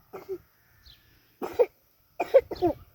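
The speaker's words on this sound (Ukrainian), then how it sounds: "Ой, хто там кашляє?" A few short, dry coughs come in quick bursts with brief pauses between them in an otherwise quiet space.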